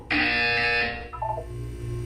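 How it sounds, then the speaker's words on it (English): A loud electronic buzzer from the Portal video game sounds once as a sustained harsh tone, then steps down through a few lower tones over a quieter background hum. "You will hear a buzzer."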